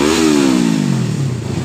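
Yamaha MT25 motorcycle fitted with dual Brew exhausts, heard close and loud as the engine revs drop away in one smooth falling sweep.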